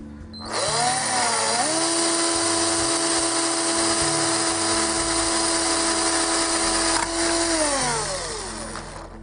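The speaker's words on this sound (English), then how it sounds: "I'm going to drill a hole instead" A power drill whirs up to a steady high-pitched spin, holds for several seconds, then winds down; no voices.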